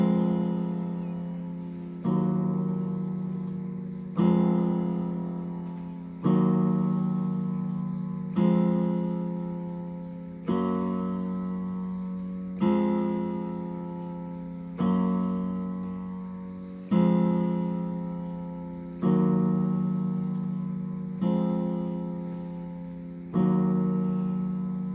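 Piano plays a song as a steady sequence of struck chords roughly every two seconds, each ringing and slowly decaying before the next, loud and close with no talking.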